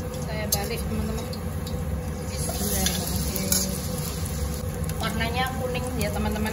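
Turmeric-battered tempe mendoan sizzles in hot frying oil as it is turned over, a steady close crackle with utensil scrapes and a voice talking over it.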